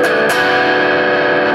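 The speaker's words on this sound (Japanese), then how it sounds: "ソルダーノの方でクランチ" A Fender Japan ST-314-55 Stratocaster with EMG pickups plays through a Soldano amp on a crunch channel with no reverb, giving a loud, close, sustained distorted strum after a quick double attack.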